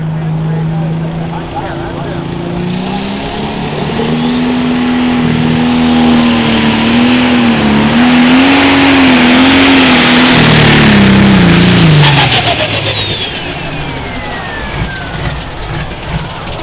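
Pro stock pulling tractor engine revving hard with a whining turbocharger showing a fault, loud and close, its pitch rising and wavering over a sustained run before dropping off.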